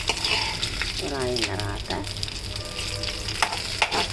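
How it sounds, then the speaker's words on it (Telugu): A pan crackles with a steady sizzle as food fries and is stirred, with scraping strokes and a few sharp taps, while someone talks over it. "ఇలా వేయించుకుంటుంటే కొంచెం ఎర్రగా వేగిన తర్వాత"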